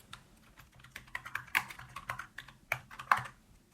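Quick keystrokes on a computer keyboard type a project name in DaVinci Resolve, irregular close clicks with a few sharper taps, with no talk.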